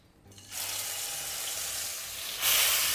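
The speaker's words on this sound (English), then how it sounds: "We're going to fry the rempah or spice paste." Rempah spice paste for Indonesian prawn curry hits hot oil in a pan, bursting into a loud steady sizzle after a quiet start, then intensifying further near the end.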